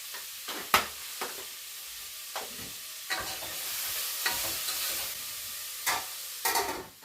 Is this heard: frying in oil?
yes